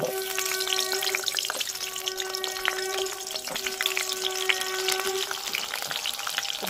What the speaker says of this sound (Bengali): এবার পটলগুলোকে পুরো ভেজে নেব।